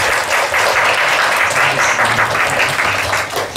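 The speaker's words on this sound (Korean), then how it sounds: "귀한 형제님 오셨는데 박수로 좀 환영했으면" A church congregation applauds during a Sunday service to welcome a visiting guest, a steady, dense wash of clapping that holds at full volume throughout.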